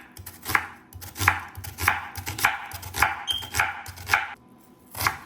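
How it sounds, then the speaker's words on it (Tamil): Half an onion being chopped into small pieces with a knife on a board, heard as a series of crisp, close knife strokes that come in uneven bursts with short pauses between them. No voices are heard. "இதில் பாதியை சின்ன சின்னதாக வெட்டி எடுப்போம்."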